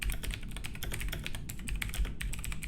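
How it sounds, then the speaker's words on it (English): Rapid typing on a computer keyboard during an online Among Us session, a continuous, close patter of light key clicks with uneven rhythm and no talking. "He's typing in Discord."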